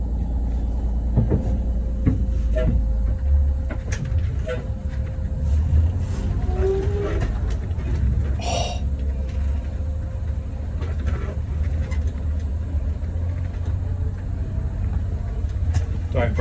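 Old barn-find bus rocking and driving out of mud, a steady heavy engine rumble running throughout with some scraping and knocks, loud and close, with brief voices underneath.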